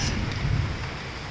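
Night rain falls steadily over Akola during a thunderstorm, a dense wash with a low rumble of thunder underneath, heard briefly and without voices.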